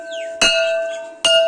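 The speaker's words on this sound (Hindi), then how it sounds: "यहाँ बच्चों को ही विद्यालय के शुरू होने की, कालांश बदलने की और विद्यालय की छुट्टी होने की घंटी बजानी पड़ती है।" A school bell at a government school in Shahpur, Bharatpur, rung by a child: two sharp metallic strikes, each followed by a long, clear ringing tone that fades away.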